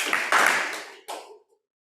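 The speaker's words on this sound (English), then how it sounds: "Give me 2 claps." A group of people clapping in unison twice at an instructor training session, two sharp bursts of applause with a brief gap between them, close and loud, then silence.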